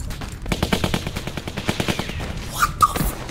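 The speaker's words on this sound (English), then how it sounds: "Bro, they got automatics out there?" Automatic rifle fire from an AK in Telltale's The Walking Dead Season 2 game: a rapid, even string of close, loud shots for about two seconds, ending in a couple of sharper cracks and metallic ringing.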